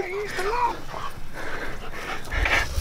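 A dog whimpers and whines in short high cries, with soft panting between, fairly close and without talk.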